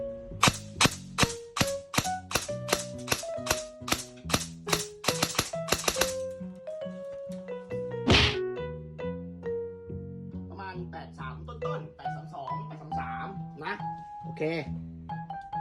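Airsoft gun shots fired about two centimetres from the muzzle opening of a chronograph, a rapid run of sharp clicking snaps followed by one loud burst and then more scattered, sparser clicks close by.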